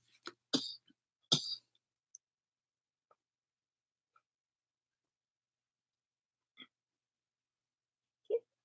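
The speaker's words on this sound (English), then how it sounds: "Starting to hurt to cough now" A person coughs sharply twice in quick succession, close and fairly loud, followed by quiet with a few faint scattered sounds.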